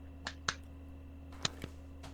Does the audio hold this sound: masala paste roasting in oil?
no